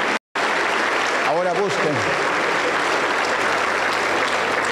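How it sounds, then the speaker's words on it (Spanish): Pentecostal church congregation applauding through a steady, roomy wash of clapping, with someone briefly speaking over it partway through. "Un fuerte aplauso para el Señor."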